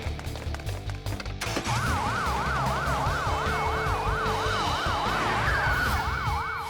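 A loud ambulance siren wails, rising and falling steadily in a regular up-and-down sweep, close by, following a short burst of clattering noise.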